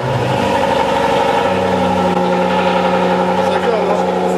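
An SVR supercar engine fires up by start-stop button and settles into a loud, rough, high cold idle with a brief rev flare at the start, steady drone close by, with a voice talking over it.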